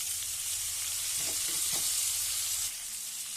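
Chopped tomato frying in hot oil in a pan for a broad bean masala, a steady hiss of sizzling throughout with a few soft clinks of stirring in the middle.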